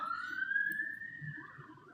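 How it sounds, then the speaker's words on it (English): Police siren sounding outside the front of a building, a single sustained rising wail heard at a distance, fairly faint and steady over quiet background murmur. "we just got sirens out the front"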